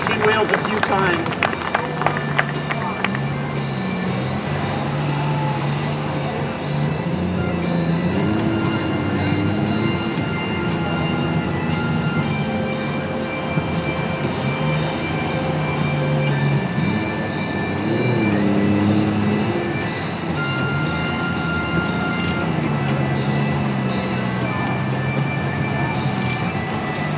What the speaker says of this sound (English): 4 bikes coming in from the corners of the field, catching wheels a few times